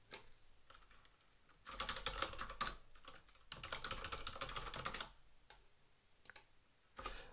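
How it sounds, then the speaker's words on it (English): Bursts of typing on a computer keyboard as a username and password are entered, quiet clicky keystrokes in runs with short pauses between, no talking. "I will type in my username and password"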